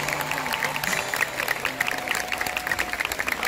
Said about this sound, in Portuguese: pode aplaudir, Sérgio.